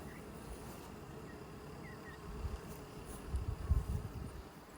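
Honey bees buzz in a steady, dense drone at an opened hive during a Varroa mite treatment, swelling a little louder toward the end, with no talking.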